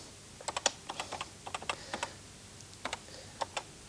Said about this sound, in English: So we position the cursor itself, that's the flashing line, using the cursor keys, over where we want to start typing